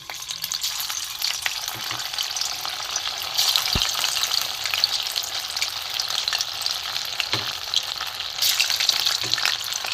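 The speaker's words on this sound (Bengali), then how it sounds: "এখানে আমার তেলও গরম হয়ে গেছিলো, এগুলো আমি একটা একটা করে ভেজে নেব।" Pieces of dough sizzle steadily in hot oil, a dense continuous crackling fry close up with occasional stirring clinks, no talk over it.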